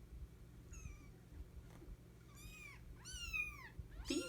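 Several tiny, high-pitched meows from 2.5-week-old kittens, close by and increasingly frequent, over a faint low background hum.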